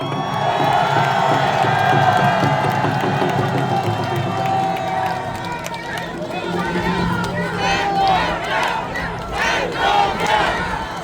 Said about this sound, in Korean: 강원동지 여러분 우리 장기호 대표님을 큰 박수와 함성으로 맞아주시기 바랍니다